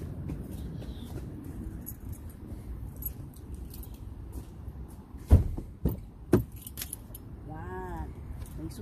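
A bunch of car keys jangles inside a vehicle before a drive, a couple of sharp metallic shakes standing out over steady cabin hum, with faint background sounds and a brief chirping tone near the end.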